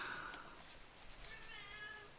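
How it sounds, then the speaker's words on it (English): A cat meows indoors in the background, a few short tonal cries rising over a quiet room, faint and somewhat distant. "If you hear my cat in the background, I'm sorry."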